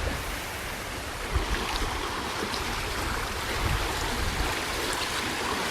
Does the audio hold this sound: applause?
no